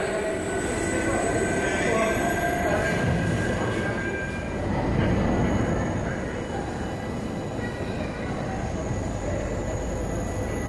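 A train on the Sealdah–Bangaon suburban line rumbles past steadily for several seconds, with wheel noise and faint high squeals over a dense, continuous roar.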